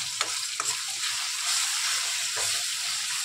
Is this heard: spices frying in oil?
yes